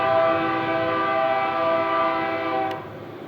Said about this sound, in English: this lengthy manifest takes some time to get moving thanks to the uphill gradient